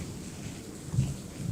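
Rain falling outdoors beside green paddy fields, a steady soft hiss of rainfall with low rumbling swells, fairly quiet and uninterrupted.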